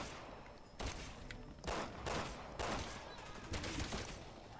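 Bursts of gunfire in the video game Resident Evil 6, with several loud rapid volleys spaced about a second apart over a constant background rumble.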